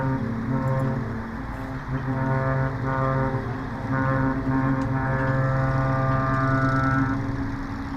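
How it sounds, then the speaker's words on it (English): Cruise ship Iona sounding its deep horn as it departs the Port of Southampton, steady sustained tones repeated in long blasts over distant harbour noise. "I don't know if you could hear Iona's horn."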